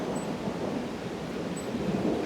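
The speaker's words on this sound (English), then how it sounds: "And some thunder." Low, steady rumble of thunder rolling through a storm, with a faint hiss of rain over it, continuous and fairly distant with no voices.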